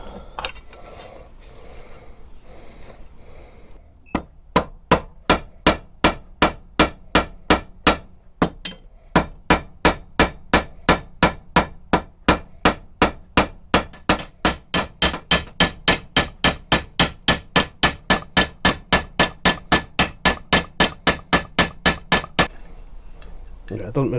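A metal rivet is hammered to fix the head of a homemade billhook pole arm, a long run of sharp ringing blows at a steady fast rhythm, close and loud, after a few quieter taps.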